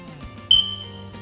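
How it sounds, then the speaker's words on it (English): A single short, high-pitched electronic chirp from a smoke detector with a low battery, cricket-like, faint against a quiet room hum. "That little chirp that sounds like a cricket tells me that the battery needs to be replaced"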